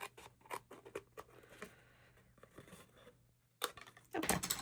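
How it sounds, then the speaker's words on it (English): Snips cutting a small piece off a wooden tag box, a few crisp snips and scraping handling sounds up close, then a louder, rougher crunch at the end. "On my snips, I'm just going to cut this little portion off."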